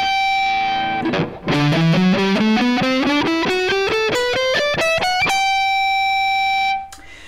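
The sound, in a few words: electric guitar with distortion playing pentatonic scale with passing tones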